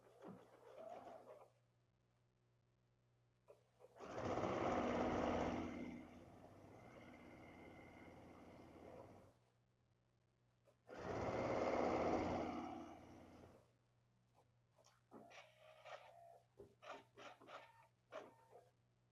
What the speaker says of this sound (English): Stitch with another 1/4 inch seam.